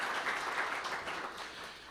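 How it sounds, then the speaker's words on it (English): Audience applause at a mayoral State of the City address in Elmhurst, a full room clapping steadily and loudly, tapering slightly toward the end with no speech over it. "Sure, that's applause worthy,"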